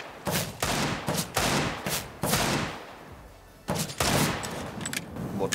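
Rapid gunfire in the video game CS:GO, a series of loud, close bursts of shots with short gaps between them and a brief pause before the firing resumes.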